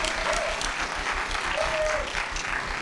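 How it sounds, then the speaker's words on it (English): Audience clapping at an event panel, a steady round of applause from a crowd with some voices talking over it. "I'll do it after you clap."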